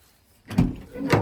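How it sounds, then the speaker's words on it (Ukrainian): Sliding side door of a 2014 Opel Vivaro 2.0 passenger van closing quietly, a soft thud followed by a second muffled latch sound about half a second later, close by with no talk. "Дверки закриваються, чуєте тихенько."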